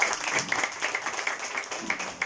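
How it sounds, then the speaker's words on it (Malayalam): Children at a special school's Independence Day celebration give a round of applause, with uneven clapping that rises and dips in small bursts and includes some sharper individual claps, heard close and moderately loud. "എന്റെ മക്കൾ വലിയൊരു ക്ലാപ്പ് കൊടുക്കുന്ന"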